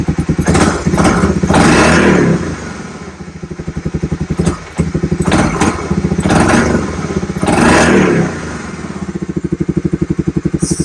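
1986 Honda Fourtrax 4x4 ATV engine idling up close, a loud steady putter with regular firing pulses and slight clattery surges, running alone without voices.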